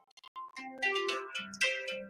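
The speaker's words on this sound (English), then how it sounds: "we have a phone call coming in." A melodic phone ringtone for an incoming call plays alone, a bright tune of several rising and falling electronic notes, clear and close.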